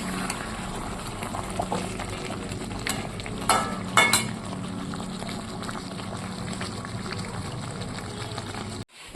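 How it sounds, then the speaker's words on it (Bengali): Spicy mutton frying in a pan, a steady close sizzle and bubble with a few louder scraping stirs partway through, no talking. "আর একটু পরপর নাড়াচাড়া করে দিচ্ছি লাল লাল ঝাল ঝাল করে মটন হবে তো"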